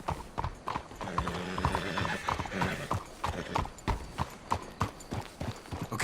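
Steady clip-clop of several horses' hooves in Red Dead Redemption 2, a rhythmic close trot with a whinny partway through, over a low ambient bed and brief faint voices.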